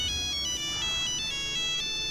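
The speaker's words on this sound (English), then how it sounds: "somebody, your phone's going off" A phone ringtone plays steadily and fairly loud in a room, a repeating electronic melody with bright pulsing tones and no one speaking over it.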